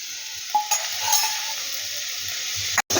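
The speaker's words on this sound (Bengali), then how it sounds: "ভালোভাবে নাড়াচাড়া করব যাতে মশলাগুলো সব মাছের যে পাকটা তৈরি করছি তার সাথে যেন ভালোভাবে মিলেমিশে যায়" A spatula stirs boiled fish filling with spices in a pan for Kolkata-style fish kachori. A few distinct scrapes and clinks sit over a gentle, continuous sizzle.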